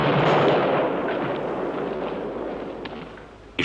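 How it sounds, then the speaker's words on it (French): A cannon fires: a heavy booming blast rolls out and slowly fades in a long rumbling decay, ending with a sharp crack. "Faites taire ce canon"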